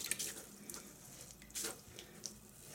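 Water is wrung from a wet sanding sponge in a sink: quiet splashing and dribbling with a few brief squeezes and drips, close and faint, with no voices.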